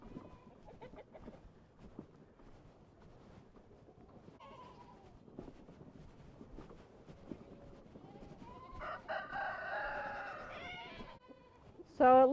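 Goats bleating on a farm, with several brief wavering calls coming from near and far over faint background rustle and low noise, and a louder bleat right at the end.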